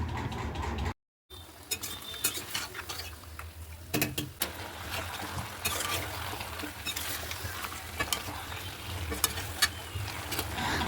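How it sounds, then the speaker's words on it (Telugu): Marinated green chicken sizzles loudly on high flame while a spatula stirs and scrapes the pan in repeated strokes, with a short gap of silence near the start. "అందులోకి మనం ముందుగా మ్యాగ్నేట్ చేసి పెట్టుకున్నటువంటి ఆ చికెన్ని వేసి అయితే బాగా కలుపుకోండి హై ఫ్లేమ్లో పెట్టి"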